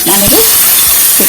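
Spices and chilli dropped into hot tempering oil for a ridge gourd chutney, a loud, steady sizzle and frying hiss that fills the whole moment, with light stirring.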